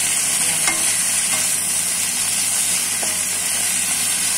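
Potatoes and other vegetables for spring rolls fry in a pan with a loud, constant close sizzle, broken by a few soft scrapes of stirring and no talking.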